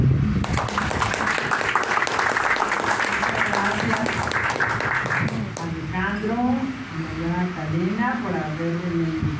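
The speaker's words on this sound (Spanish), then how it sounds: "Un aplauso, por favor." Applause at a book presentation, filling the first half as dense clapping before fading out while a voice begins speaking.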